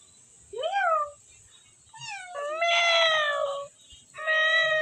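A pet cat at home gives several clear, separate meows, some drawn out, with short quiet gaps between them.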